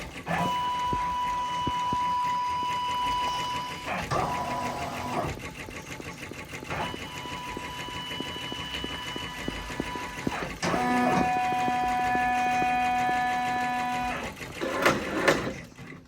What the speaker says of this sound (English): I like to scan my frame when I'm not using the frames that come with the machine.